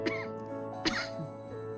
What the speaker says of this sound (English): Still that damn cough.